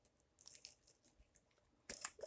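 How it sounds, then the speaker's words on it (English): Crunchy galaxy glitter slime squeezed by hand, giving two short bursts of crisp crackling and popping close up, with a quieter pause between them. "It's crunchy. I don't really like crunchy slime."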